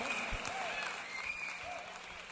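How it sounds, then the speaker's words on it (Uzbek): Guests at a wedding celebration give a round of applause, a fairly faint, continuous patter of clapping under music and voices. "Bitta guldiroz qarsak bo'lsin."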